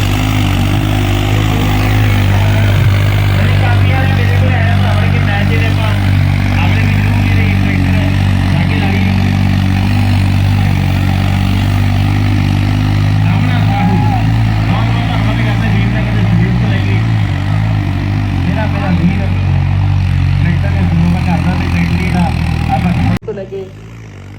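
A New Holland tractor pulls a loaded trolley, its engine a loud, constant, deep droning roar that holds steady almost to the end, then cuts off abruptly, with a voice or sound over it.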